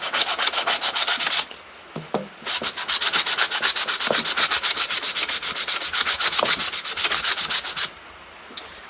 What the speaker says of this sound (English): I don't give it a lot of sanding because I don't want all the white to come off